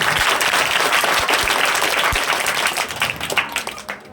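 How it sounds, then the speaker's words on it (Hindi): Audience at a Hindi poetry recital (kavi sammelan) stage program breaks into dense, continuous applause that holds steady, then tapers into scattered claps near the end. "ताली बजाए एक बार करते हैं।"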